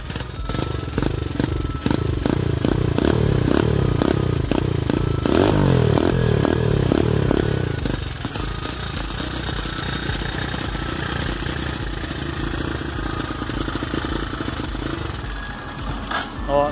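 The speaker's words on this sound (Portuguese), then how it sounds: "Ela não tá parando na lenta, galera. Então eu vou ter que dar uma acelerada aqui, tá?" A Monster 250 motorcycle engine that will not hold idle is revved repeatedly, giving loud rhythmic throttle blips for several seconds before dropping to a steady, lower running drone.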